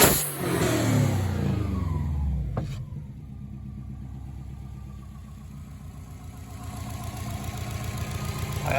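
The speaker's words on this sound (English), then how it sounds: "I'll let you hear the intake of the engine too," A Subaru Outback XT turbo with a performance intake and exhaust revs sharply, then drops back and settles into a steady, throbbing idle, heard up close.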